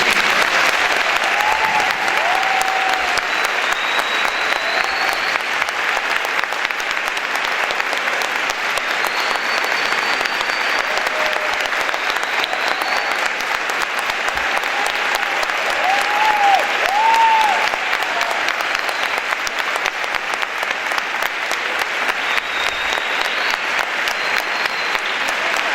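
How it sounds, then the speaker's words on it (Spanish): Long, sustained applause from a conference audience after a talk on women and gender dissidence facing patriarchy: dense, loud and steady clapping from many hands, with faint cheers and voices woven through. "Con este inmenso aplauso"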